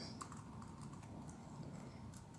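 Faint, steady computer-keyboard typing, soft scattered keystrokes under a continuous low room hum.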